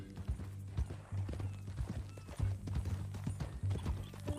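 A horse's hooves clip-clop at a walk in the video game Red Dead Redemption 2, a close, steady run of thudding hoof beats with a brief snort or whinny mixed in.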